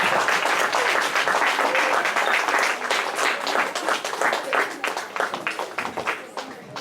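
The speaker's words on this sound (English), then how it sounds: "Please stand and give him a round of applause." A congregation applauds at a Shabbat service, a dense, sustained wash of many hands clapping that thins slightly toward the end, with some cheering mixed in.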